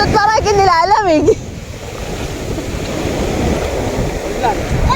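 Sea waves wash onto a beach in a steady, broad rush with wind noise, following a brief burst of high chirping voices at the start.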